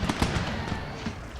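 Musket volleys from the video game Empire Total War crackle as a rapid run of sharp, overlapping pops, loud and dense throughout the short burst.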